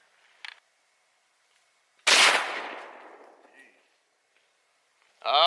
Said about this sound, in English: last but not least will be the Barnes 36 grain Varmint Grenade